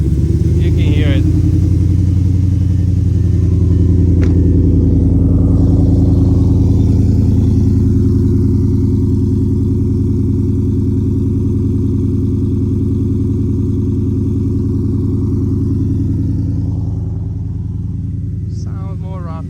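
An Audi 4.0 TFSI engine with a 310 stainless steel turbo manifold idles roughly and loudly up close on a cold start, a deep uneven rumble with a steady low throb that eases slightly near the end.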